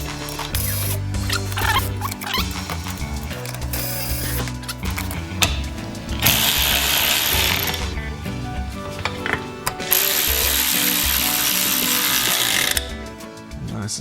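Hand tools crank down the seat bracket bolts on a C10 pickup with rapid ratchet clicking in bursts, mixed with metallic rattles and knocks at close range.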